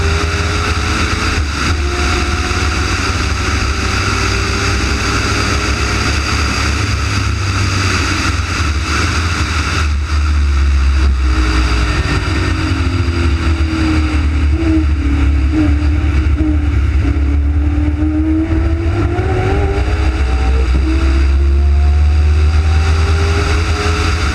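Race cars, including a Ford Mustang and a Ford Escort, drone loudly down the back straight, with engine notes rising and falling steadily throughout, as a continuous close roar without pauses.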